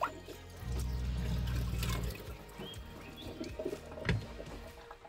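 Tap water runs into the kitchen sink of a VW Crafter campervan, a close, steady splashing gush that swells for a couple of seconds, then continues more unevenly with small knocks and trickles.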